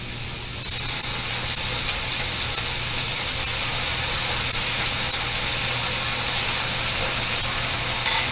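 Soy sauce, about three tablespoons, poured into a hot dish in an Asian cooking setting, giving a steady, even hiss and sizzle that holds for several seconds with no talk over it.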